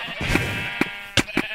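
A sheep in Minecraft bleats in one sustained wavering call, followed by a few short clicks and thumps from play, close and clear.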